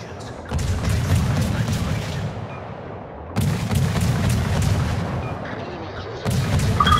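Heavy naval guns boom in World of Warships naval combat, three loud broadside volleys with rumbling low roar between them, dense and close, no voices.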